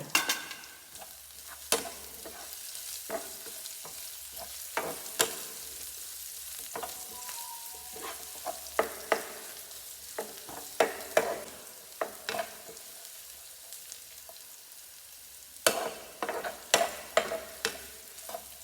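Shallots are stir-fried for a sago pork filling, a soft ongoing sizzle broken by frequent scraping and tapping strokes of a spatula against the pan, with no voices.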